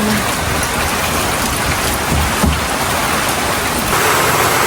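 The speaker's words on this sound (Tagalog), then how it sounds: "Malakas po ulit ang ulan." Heavy rain with strong wind pours down in a dense, steady roar, constant throughout with no voices.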